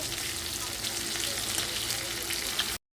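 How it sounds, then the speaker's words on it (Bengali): Pointed gourd fries in hot oil, a dense, even crackling sizzle heard up close and fairly loud, continuing steadily before cutting off abruptly near the end. "পটলগুলো আমার ভাজা হয়ে গেছে এটা তুলে নেব"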